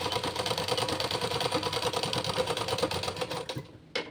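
A sewing machine stitches a blouse in a rapid, steady mechanical whirring run, close and loud, stopping abruptly just before the end.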